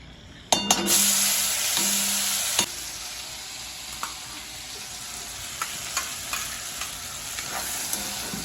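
Masala for a village-style mutton curry sizzles hard in a very hot kadhai, with a loud burst of frying at the start that settles into a steady hiss, punctuated by sharp clinks and taps of a spoon against the pan.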